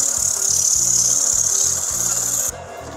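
Steady rhythmic rasping of 60-grit sandpaper rubbing back and forth on soft wood for a wooden plate, close and loud, stopping abruptly near the end.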